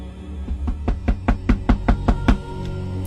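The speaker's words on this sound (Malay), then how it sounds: "tiba-tiba dekat tingkap dapur Casey, dengar bunyi ketukan" A run of about ten evenly spaced knocks, firm and close, rapping on a kitchen window in a horror tale, building steadily and then stopping.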